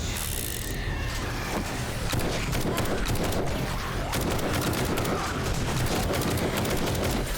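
Rapid gunfire from a gun in the video game 7 Days to Die bursts in loud, dense volleys of cracks over a heavy rumbling game soundscape, continuous and close.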